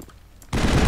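Gunfire in the 2007 video game Mass Effect: after a quiet moment, a loud, sudden burst of rapid automatic fire erupts and continues to the end.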